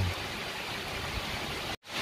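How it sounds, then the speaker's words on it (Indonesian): Steady rain falls, a dense, even hiss that continues without a break until a brief dropout near the end and then returns. No one speaks over it. "Waduh, hari ini hujan."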